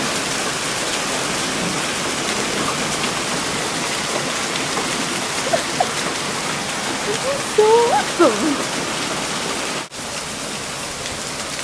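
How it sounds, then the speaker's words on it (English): Heavy rain with hail pouring down steadily during a Colorado thunderstorm, a dense close hiss of drops and water running off the road, with a brief excited shout partway through. "No, now it's just mostly rain."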